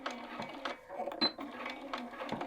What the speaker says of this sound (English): I like to hand wheel my first stitch so I know I'm in the right spot.